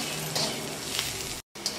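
A chivda mixture with curry leaves being stirred in a hot pan, giving a continuous loud sizzle with light scraping, briefly cut off near the end before resuming.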